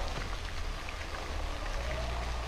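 Dense, steady rain hissing and pattering without a break, loud and close, filling the whole moment with no talking, in the video game Cry of Fear.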